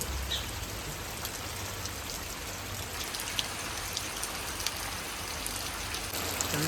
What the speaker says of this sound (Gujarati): જો ધોધમાર વરસાદ ચાલુ છે હજી વધતો જાય છે